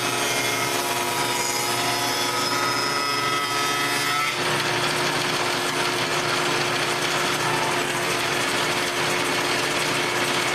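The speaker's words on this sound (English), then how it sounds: "So I've got my table saw set up with a dado blade." Table saw fitted with a dado blade cutting grooves into wood panels for storage cabinets, a loud continuous whine that turns to a rougher, noisier cut partway through, close and with no talk.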